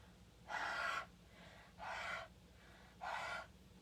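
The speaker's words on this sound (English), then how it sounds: "where I'm just bringing this to me and I'm breathing on it" Three slow, steady exhalations onto a rubber stamp to re-wet its ink, each a soft breathy hiss lasting about half a second, evenly spaced and close to the mic, with quiet between them and no talking.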